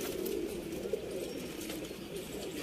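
A teddy pigeon coos faintly in a steady, soft murmur under constant background noise, with no clear talking over it.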